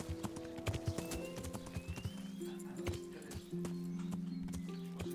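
A horse in the video game Kingdom Come: Deliverance clip-clops along in rapid, uneven hoofbeats, with a brief whinny and steady tonal game sounds underneath, fairly close.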